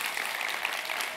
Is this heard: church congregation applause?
yes